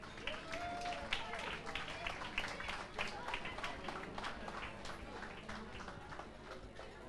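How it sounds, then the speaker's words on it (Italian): Audience applause at a pub song contest show, dense steady clapping from a crowd filling the whole stretch, fairly close and even in loudness. "Ancora un applauso per Laura Iordanescu."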